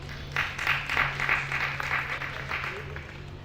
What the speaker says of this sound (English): Let's give her a clap.